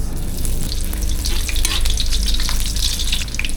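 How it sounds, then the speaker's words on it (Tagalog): Kikiam fish balls sizzle loudly in a pan of hot oil, a dense continuous crackle and spatter close up, with no voices. "Madami-dami muna kasi magpa-fry tayo ng kikiam."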